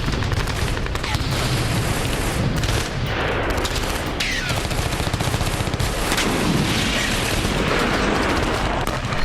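Heavy, dense gunfire with rapid bursts and booming blasts from an Israeli commando strike on Iranian proxy bases in Syria, loud and sustained throughout with overlapping volleys and some voices underneath.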